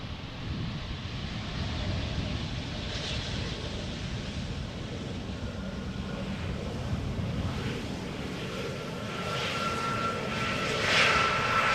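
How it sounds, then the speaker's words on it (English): Embraer 190 jet airliner, a 13-year-old KLM aircraft arriving from London City at Amsterdam Schiphol, heard as a steady broadband engine roar with wind across the microphone, swelling slightly louder near the end. "Over here we have an Embraer 190 arriving from London City, KLM flight 982."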